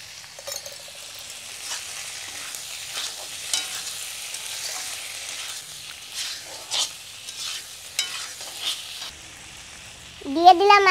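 Fish roe sizzles and crackles steadily as it is stirred in a hot pan, with intermittent scraping strokes, then a louder burst of hiss near the end.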